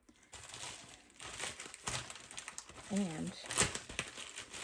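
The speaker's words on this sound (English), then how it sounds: "I'm going to gently cut the package very carefully." Someone carefully cuts open a package, making crinkly, rustling wrapping noises and small snips, partly under a man's speech.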